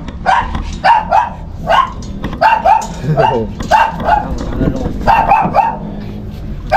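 Dogs bark repeatedly at a family double birthday celebration, sharp close barks in uneven bursts throughout, with people talking underneath.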